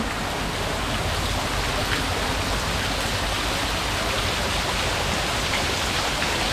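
Steady rushing water from a waterfall in the garden of a forest cafe, a continuous broadband wash holding at an even level throughout with no voices.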